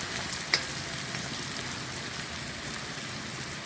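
Mint frying in a generous amount of oil gives a steady, even crackling hiss, close and moderately quiet, with one brief clink near the start.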